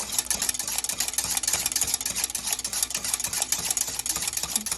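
A whisk stirs a cornstarch glaze mixture for honey-glazed ham in a bowl, producing a rapid, continuous metallic clicking and swishing at close range with no speech.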